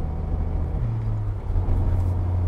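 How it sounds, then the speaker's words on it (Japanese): A Mazda ND Roadster four-cylinder engine drones through its sport muffler, a steady low exhaust note that shifts pitch slightly as the car runs, with no talking. "このスポーツマフラーの音がですね、これがなかなかいいんですね。 4気筒エンジンの非常にスポーティーな響きをより味わうことができると。"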